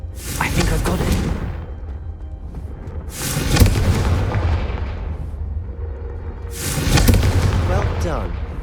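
Confringo fire spell cast in the Hogwarts Legacy video game, three loud explosive bursts spaced a few seconds apart, each a broad booming blast that trails off, with a low rumbling bed and voices in between.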